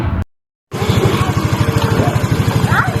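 A Yamaha Mio 125i scooter engine, freshly rebuilt after being taken apart, runs at a steady idle with a rhythmic low putter, loud and close, after a brief cut to silence.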